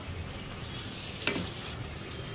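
Prawns frying in a pan for prawn biryani, a steady close sizzle throughout with a brief stir or clatter partway through and no talking.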